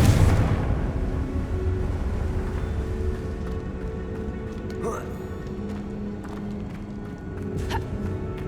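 In the video game Hogwarts Legacy, the Confringo fire spell goes off with a deep, booming burst up front that rolls into a fading low rumble, followed by faint ambient game sounds and small clicks.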